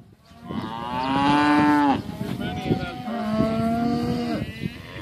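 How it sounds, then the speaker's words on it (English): Cattle moo in two long, drawn-out lowing calls, fairly close and loud, with a brief pause between them and faint background noise. "We'll end this video with a nice song from the cattle."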